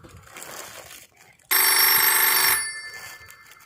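A telephone rings loudly for about a second in a Bhojpuri comedy sketch, a bright steady electronic ring bursting out between stretches of quiet room sound.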